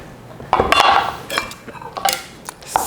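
Pork chops are tossed into pasta sauce in a pan, producing a few close clanks and scrapes of metal utensils against cookware in short irregular bursts, with no talk.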